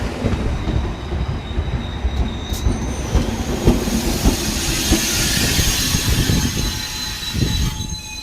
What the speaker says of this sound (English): so let's wait for the train.